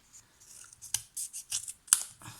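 Scissors trimming a small piece of paper for a handmade stamped card, a few quick close snips with a soft papery rasp, quiet and without talk.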